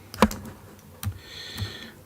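Computer keyboard keys pressed during music production work, three separate clicks spaced out over two seconds, close and fairly crisp, the first loudest.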